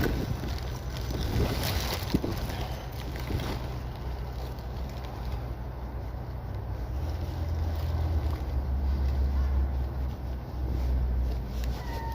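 Strong wind buffets and roars across the microphone for the whole stretch, with gusting low rumbles and no talking.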